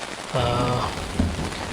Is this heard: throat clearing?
no